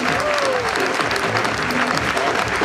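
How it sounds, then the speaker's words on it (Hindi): Sustained audience applause welcoming guests at a Delhi seminar, a dense, steady wash of clapping from a crowd with some voices mixed in, loud and continuous throughout. "तो अब सभी लोग जोरदार तालियों से स्वागत करेंगे"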